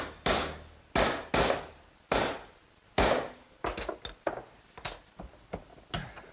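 A block of hardwood tapping a bent metal corner to sharpen it: a dozen or so sharp, close knocks in an uneven rhythm, slow at first, then quicker and lighter.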